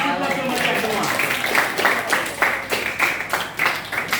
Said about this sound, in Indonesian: Baik, kita kasih aplaus untuk mereka semua.